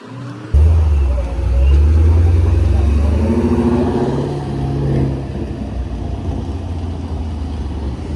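A car engine at a car meet at an O'Reilly's lot barks into a loud, close rev, holds high, then drops toward a rumbling idle while voices chatter nearby.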